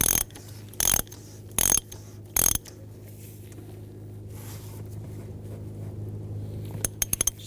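Ratcheting clicks from tightening the oil filter housing cap on a 2000-2006 BMW X5 with the 3.0L inline-six: four short, loud bursts of rapid ratchet pawl clicking in the first few seconds, then a steady low hum with a few faint clicks near the end.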